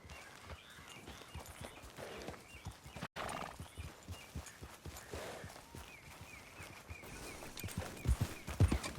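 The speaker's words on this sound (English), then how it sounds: "Grab your horse and let's go." Horse hooves clip-clop on the ground in the video game Red Dead Redemption 2, a steady rhythmic walking gait with occasional snorts and a brief whinny, fairly quiet overall and louder near the end.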